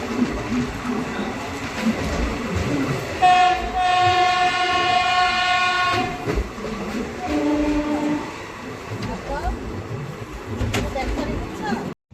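The 18012 Howrah Express passenger train rumbles and clatters departing Anara station at night, with a long two-tone horn blast, then a shorter one, while people talk faintly in the background.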